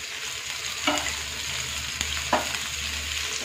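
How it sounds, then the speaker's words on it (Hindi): Carrots stir-fried in a pan for veg hakka noodles give a steady, close sizzle, with a few scraping stirs of the spatula breaking through the constant frying hiss. "एक 2 मिनट तक इसको मैं फ्राई करती हूँ"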